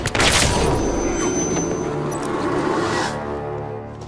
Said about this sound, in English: No doubt. Gunfire.